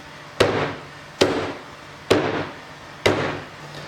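Four sharp, evenly spaced cleaver chops through dried, unsmoked cured pork ribs seasoned with Sichuan pepper, each a loud close thud with a short ringing tail, about one per second, no talk.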